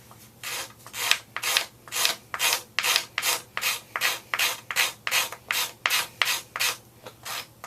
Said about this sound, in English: You can use a nice rasp.